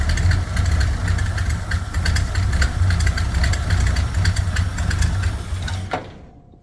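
Ford F100 truck engine idling roughly right after firing up, a loud close rumble with uneven knocking pulses that cuts out abruptly near the end.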